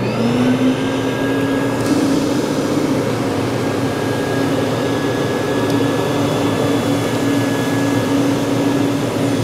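A commercial carpet extractor runs steadily with its water pump and vacuum motor on, a loud continuous whine and hum held at constant level throughout.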